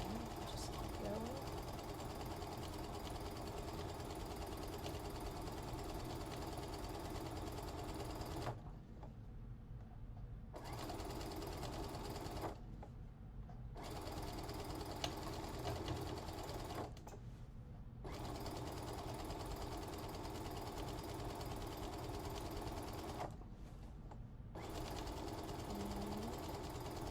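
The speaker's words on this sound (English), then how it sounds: "I keep it in that same alignment when I sew over the hem" A sewing machine stitches a hem on kid's shorts made from a man's shirt, running in long, steady, close mechanical whirring stretches broken by a few short pauses.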